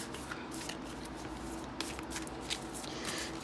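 Tarot cards shuffled by hand in quick, soft riffling bursts, with a few cards flicking loose, close and fairly quiet, with no one talking.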